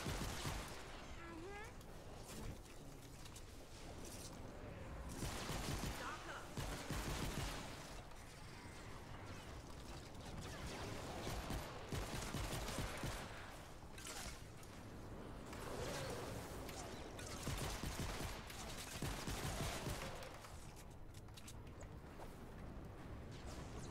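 Fortnite gunfire in PC early access: rapid bursts of shots and volleys crackle through a dense, busy battle mix, steady and loud for the whole stretch, with game effects and faint voices woven in.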